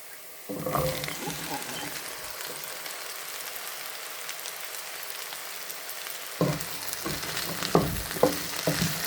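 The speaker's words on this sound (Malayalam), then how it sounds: "ഞാൻ ഇതിലേക്ക് 4 ഉരുളക്കിഴങ്ങ് ചെറിയ പീസായി കട്ട് ചെയ്തത് ഇടുന്നുണ്ട്." Small chopped potato pieces hit hot oil in a pan with curry leaves for a Kerala-style stir-fry, giving a steady close sizzle that swells with sharper crackles and stirring clatter toward the end.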